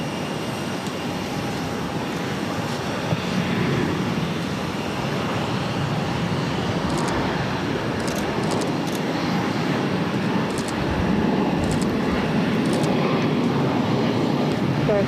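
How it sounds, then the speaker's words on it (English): Qatar Airways Airbus A350-900 taking off from Boston Logan for Doha, a strong continuous jet roar that swells slightly toward the end, with faint radio chatter underneath. "This is Qatar Airways, flight 748, taking off to Doha on the A350 900."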